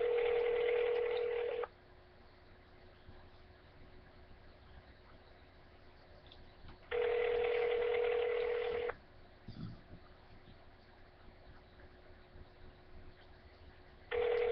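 Ringback tones of a telephone call waiting to be answered: three long, steady electronic bursts separated by several seconds of quiet line hiss, with no voices.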